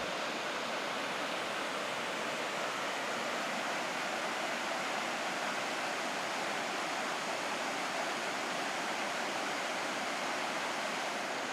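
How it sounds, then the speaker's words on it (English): River water rushes and cascades over shaded boulders where two rivers meet a lake, a loud, constant roar of white water filling the scene without a break. "The rush of the water cascading over the shade-draped boulders is almost deafening."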